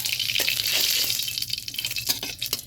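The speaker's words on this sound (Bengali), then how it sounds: "তেল গরম হয়ে গেছে, 1 চামচ সর্ষে ফোড়ন দিলাম" Mustard seeds crackle and sizzle in hot oil for tempering, a close, steady hiss with scattered sharp pops, no talking.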